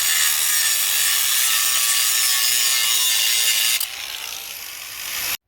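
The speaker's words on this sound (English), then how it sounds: "Here I use a sand machine to clear away any excess around or on top of the crack" An electric sander works over a cracked wooden fence post, a loud, continuous rasping whir that changes pitch slightly near the end and then stops abruptly.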